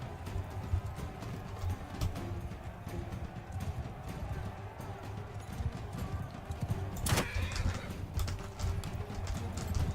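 Steady clip-clopping horse hooves in the game Bannerlord drum along under a dense wash of background noise and game sounds, with one brief sharp burst partway through.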